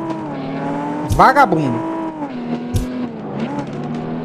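Racing car tires squeal in a street-racing game, a short sharp screech with engine noise around it, followed by a second brief skid later, while someone talks over the action.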